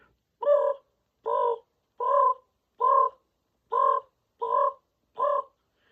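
A person imitates a raven with their voice, giving seven evenly spaced, hoarse, high-pitched huh-like caws, loud and close with silent gaps between.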